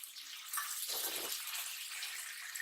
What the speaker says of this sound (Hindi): थोड़ा सा तो हम इसमें पानी ऐड कर देंगे,